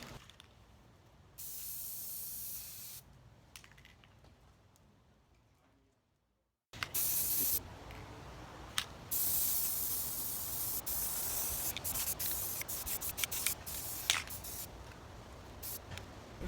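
A spray can hisses as paint is sprayed onto furniture, with short bursts early on, a brief silence, then a longer stretch of close, continuous spraying broken by small clicks and gaps.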